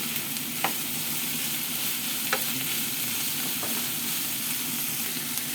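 Potatoes tumbling into ground pork frying in a pan, setting off a steady close sizzle with a few brief scraping stirs scattered through.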